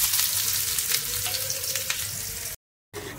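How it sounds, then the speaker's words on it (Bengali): Chopped garlic and onion fry loudly in mustard oil with dry red chilli and cumin, giving a dense, close sizzle and a few light stirring scrapes, cut by a brief silent gap near the end. "এটা বেশ করে একটু ভাজা ভাজা করে নেব।"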